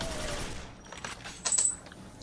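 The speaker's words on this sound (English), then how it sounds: "Quake 4 shotgun's great." Shotgun fire in Quake 4, a few quick crisp blasts with mechanical clatter, fairly faint against the game's ambient noise.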